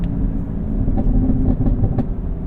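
A 2019 Camaro SS 1LE rumbles loudly from inside the cabin while driving, a deep steady exhaust drone with a few short crackling pops near the end.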